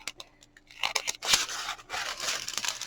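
Scissors snip through thin plastic bags of diamond painting gems, giving a few sharp crisp cuts mixed with light crinkling of the plastic, close and fairly quiet.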